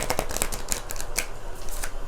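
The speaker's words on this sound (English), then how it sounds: "these cards are already messing up the shuffle" Tarot cards being shuffled by hand, a steady run of quick, crisp papery riffles and flicks close up, with no talking.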